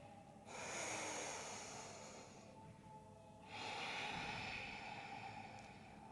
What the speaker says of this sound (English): Deep, slow breathing